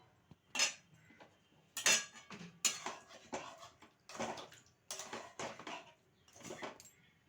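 A metal lid clatters and scrapes on a cooking pot of simmering chicken chaap, several distinct clanks and rattles spaced over a few seconds, fairly close and quiet with no talk.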